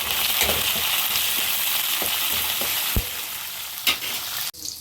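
Green chillies frying in a tempering of cumin, mustard seeds and dals in hot oil, a loud close sizzle with scattered stirring clinks, ending suddenly.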